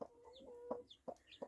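A brooding hen with two newly hatched chicks gives soft, short clucks spaced about every third of a second, faint and close, with a thin high peep running beneath.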